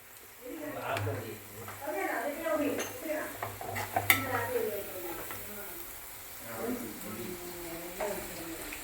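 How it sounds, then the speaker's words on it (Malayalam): Cauliflower frying in a pan for Gobi Manchurian, with a soft sizzle, clinks and scrapes of a utensil stirring, while a person talks over it. "കുറേ കോളിഫ്ലവർ വറുത്തോണ്ടിരിക്കുന്നു"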